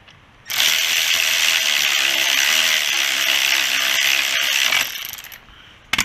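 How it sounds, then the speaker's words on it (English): A power ratchet or impact tool runs continuously for about four seconds, loud and close, while screwing a brake caliper back onto a Honda CR 250 R motorcycle, then cuts off. "Then screw your caliper back on."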